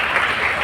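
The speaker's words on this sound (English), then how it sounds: "a big round of applause for yourselves for being here today" An audience at the TCS IT quiz applauding, a brief burst of dense, even clapping from a crowd.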